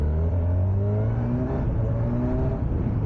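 A 1100 cc Kawasaki Ninja 1100SX motorcycle engine, the 2025 model, revs loudly and close up, its pitch rising and falling in repeated sweeps over a constant throaty drone.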